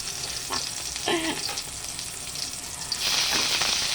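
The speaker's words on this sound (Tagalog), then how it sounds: "magsusutay muna tayo ng bawang sibuyas" Garlic and onion sauté in a pan, sizzling steadily up close, with stirring scrapes and a louder surge of frying near the end and no speech.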